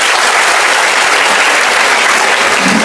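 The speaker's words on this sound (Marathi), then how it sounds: "एकदा जोरदार टाळ्या होत्या स्वतःसाठी." A crowd at a motivational talk gives loud, dense, sustained applause, a thick wall of clapping with almost no voices over it, easing slightly at the end.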